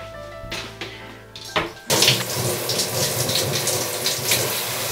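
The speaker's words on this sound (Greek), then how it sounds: "Αφού περιμένω περίπου 5 λεπτά να αρχίσει να βγάζει επιτέλους ζεστό νερό" Tap water runs steadily in a bathroom while waiting for it to turn hot, a broadband gush that starts abruptly and continues close and fairly loud, with faint earlier clatter before it.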